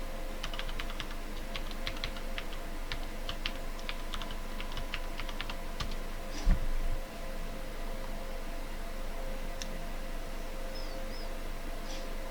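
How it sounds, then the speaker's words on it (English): Fingers tap out an IP address on a computer keyboard, a quick run of light, close key clicks in irregular bursts over a faint background hiss, then a pause with a single louder knock. "open a new tab, and we're going to type in the IP address."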